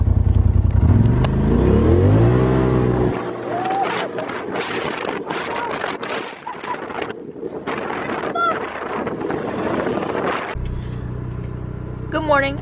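A Polaris RZR Turbo side-by-side drives at night, its engine revving and droning under heavy wind buffeting on the microphone, with voices talking over the ride.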